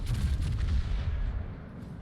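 Secondary guns of the British battleship HMS Hood fire in a naval combat video game, a deep rumbling barrage of booms that rolls steadily and then fades into a low, decaying rumble.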